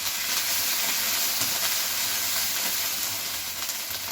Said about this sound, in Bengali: এই দিয়ে দিচ্ছে একটু আদা বাটা, একদম সম্পূর্ণ নিরামিষভাবে হবে।